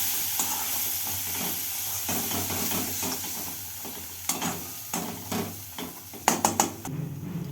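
A spice paste of cumin, turmeric and Kashmiri red chili powder frying in oil for an egg and red lentil curry, hissing steadily while a spatula stirs and scrapes the pan in quick bursts.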